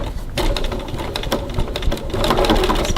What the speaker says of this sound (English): So now I'm just going to stitch the top and bottom line.